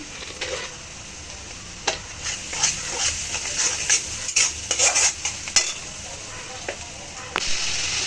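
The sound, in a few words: koi fish frying in a pan with salt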